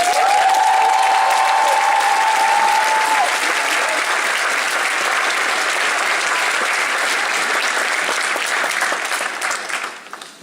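Loud, sustained applause from a large crowd, with a brief whistle or cheer early on, fading slightly at the very end.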